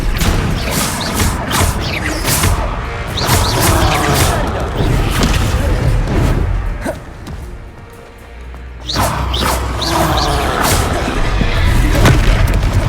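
Confringo fire-spell blasts during a Hogwarts Legacy battle, repeated booming impacts and crashes over dense combat noise, loud and close, easing briefly midway before the bursts resume.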